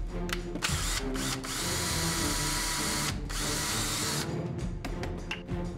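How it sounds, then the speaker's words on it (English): A power drill boring holes through the centers of two plastic bottle caps, whining in several sustained bursts broken by brief pauses, close and loud. "So I drilled a hole through the centers of those two caps"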